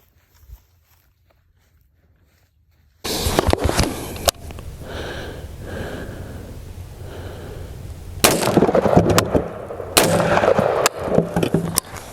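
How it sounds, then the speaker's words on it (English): AR rifle fired at cinder blocks outdoors: loud sharp gunshots cracking out after a quiet stretch, several close reports with echoing tails and a burst of rapid shots later, no speech. "I'll try to shoot it in the exact same spot"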